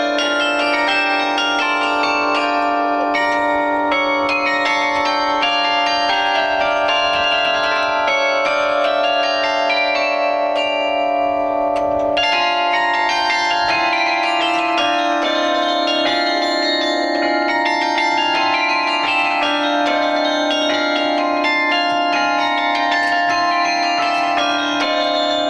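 Carillon bells ring out a melody at a town hall for an important event, a dense, sustained wash of overlapping tuned bell tones playing continuously without pause and with no voices.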